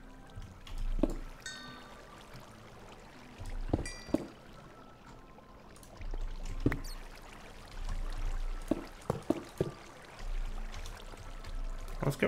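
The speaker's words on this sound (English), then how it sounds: "Let's get rid of this watery sound." Flowing water in Minecraft with the Enigmatica 2 modpack, a steady low trickling wash running throughout, broken by several sharp clicky game sounds and short tonal blips.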